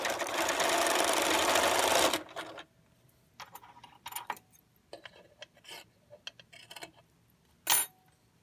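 A sewing machine stitching a three-layer cotton pleated mask runs in one loud continuous burst for about two seconds, then stops, followed by scattered clicks, rustles and handling of fabric.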